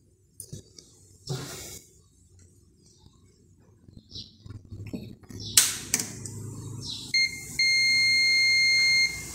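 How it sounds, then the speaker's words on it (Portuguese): A multimeter on its continuity setting gives a few short beeps, then a sustained steady tone, amid clicks and handling of probes while testing the wiring of single-phase Ebara and Leão water pumps. "a escala de continuidade bip ligado no preto e deu um azul"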